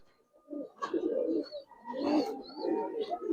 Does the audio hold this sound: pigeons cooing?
yes